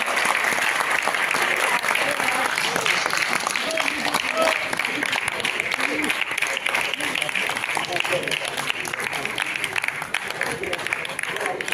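A theatre audience gives sustained, loud applause after a staging of Premchand's Godan, continuous dense clapping filling the whole stretch with faint crowd murmur beneath.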